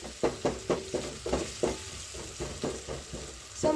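Tomatoes stirred in a cooking pan for a vegetable-and-milk supper, giving a run of about a dozen rhythmic scraping strokes over a soft, steady sizzle, close and moderately loud with no talking.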